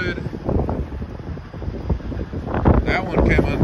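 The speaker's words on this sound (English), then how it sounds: "Windy as shit" Strong wind batters a microphone outdoors beside a freight train, loud rumbling gusts with buffeting bursts that intensify toward the end.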